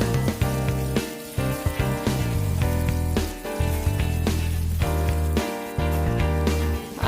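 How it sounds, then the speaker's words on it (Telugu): Onions, curry leaves and green chillies frying in hot oil for a jackfruit seed curry give a steady sizzle that runs throughout, mixed with prominent background music. "కరివేపాకు, పచ్చిమిర్చి, ఆనియన్స్ కూడా వేసుకొని వేయించుకుందాం."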